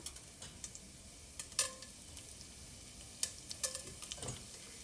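Mustard seeds and chana dal sautéing in a pan for a green beans stir fry, quiet and sparse, with scattered small crackles and sharp pops over a faint low background.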